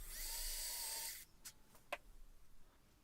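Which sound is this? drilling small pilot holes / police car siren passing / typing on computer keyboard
drilling small pilot holes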